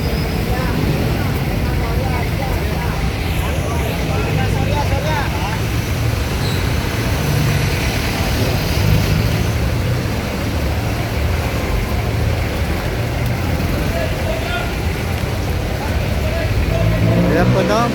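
Steady roadway traffic on Taft Avenue in Manila on a rainy morning, with cars, buses and trucks passing continuously at moderate distance, a constant loud wash of engine and tire noise, and someone talking over it.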